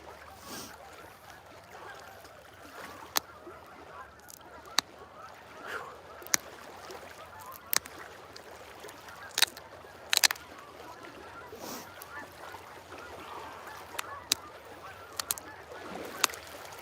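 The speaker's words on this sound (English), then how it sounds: "Hope the geese ain't too loud." Faint goose honks scattered in the distance over a soft outdoor background, with occasional sharp clicks and taps of flint knapping nearby.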